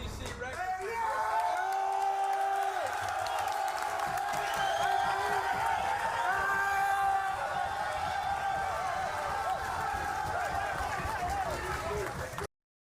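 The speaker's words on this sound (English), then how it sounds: "You couldn't hear it for all the screaming there." Football players scream, whoop and cheer in a locker room after a win, a dense, loud crowd of overlapping shouts and yells that holds for several seconds before cutting off.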